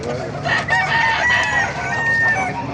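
Several gamecocks crow over one another at the Baliuag tyangge market in the Philippines, with repeated overlapping cock-a-doodle-doo calls and clucks close by amid busy market chatter.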